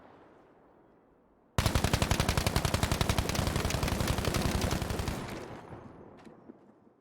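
Sustained automatic gunfire from Battlefield V during an official match, a loud rapid burst of evenly spaced shots lasting several seconds, then tapering off with a faint later crack.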